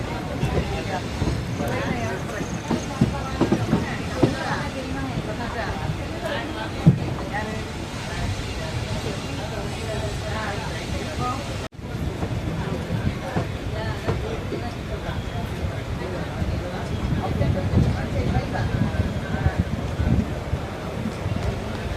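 A steady, rumbling roar of the Sengottai–Tirunelveli passenger train pulling into Tirunelveli Junction carries on throughout, with wind-like noise and people talking over it.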